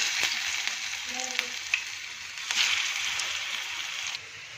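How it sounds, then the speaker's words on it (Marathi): Alu vadi, colocasia leaf rolls, frying in hot oil: a steady, close sizzle with a few small clicks and pops, and no voices. "आता मी ह्याच्यामध्ये आळूवडी तळून घेते"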